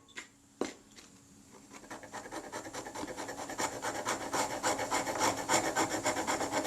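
The back edge of a scalpel scrapes debris off an old Retina camera body, with a rhythmic rasping that builds in strength after a couple of early sharp taps.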